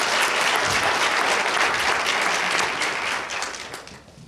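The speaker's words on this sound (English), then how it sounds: "I think that deserves a round of applause as well" An audience breaks into applause, a loud, dense crackle of many clapping hands that holds steady and then tapers off toward the end.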